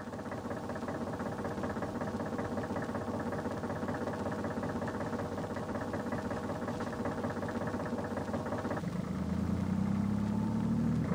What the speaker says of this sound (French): Une fois que le tronc a été traîné jusqu'à la clairière, le tracteur le reprend.